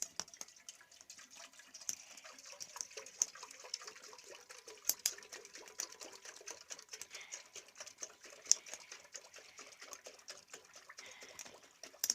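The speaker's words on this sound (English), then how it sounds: "We are going to strain the milk, or sieve." Milk is strained through a sieve in an African village kitchen, making a faint, uneven trickle of dripping liquid with small scattered ticks and splashes, close and quiet, with no voices.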